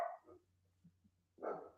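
Dogs bark in two short bursts separated by a quiet gap with faint yips, fairly close and without talk.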